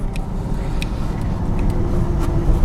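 A car engine runs at medium throttle as a low, steady rumble from inside a quiet cabin, with a few faint light clicks and rattles on top.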